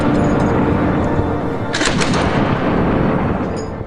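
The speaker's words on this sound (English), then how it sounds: "Troops fire on suspected Russian positions." Gunfire from troops firing on Russian positions in a battle: a dense, continuous roar of shooting with a cluster of sharper, louder reports in the middle, heavy and close throughout.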